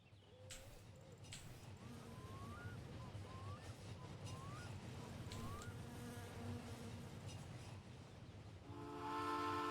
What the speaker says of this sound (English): Oh, that's just a train.